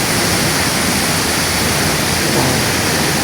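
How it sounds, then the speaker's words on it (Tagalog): Strong, steady roar of the Old Casaroro waterfall pouring hard, a loud, dense wash of falling water that fills the scene without a break and with no voices over it. "Ang lakas ng tubig."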